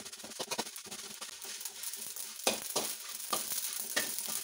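Mustard seeds frying in oil for a jackfruit pickle; a soft, fairly quiet sizzle with scattered popping crackles and light stirring scrapes, close by.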